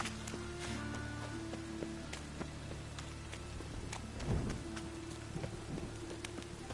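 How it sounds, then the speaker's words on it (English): Steady rain falls in The Witcher game, a constant wash of drops with a low distant rumble of thunder swelling briefly near the middle. "I like rain."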